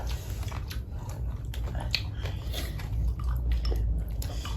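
Someone chews soft, well-cooked mushrooms at a close-up meal, with steady, wet munching and squishy bites repeating throughout.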